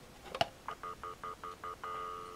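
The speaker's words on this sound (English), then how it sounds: "there are messages waiting, because I have stutter dial tone for that" Stutter dial tone on a phone line signalling a waiting message, heard after a click as a string of short, evenly spaced tone beeps that settle into a continuous steady tone.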